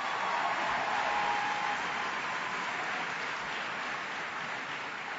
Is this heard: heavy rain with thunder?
no